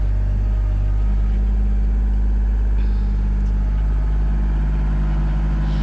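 A tractor engine runs steadily while preparing garden beds, a deep continuous rumble holding loud and close throughout with no pauses or speech.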